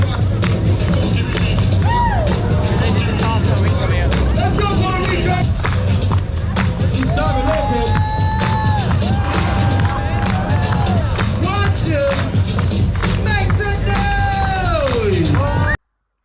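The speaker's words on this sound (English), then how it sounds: "So again, just be prepared to get in amongst all the crowds" A busy night crowd in Times Square, New York, with dense chatter and street noise close by, people talking, and occasional whistles or sliding tones rising above the constant loud hubbub.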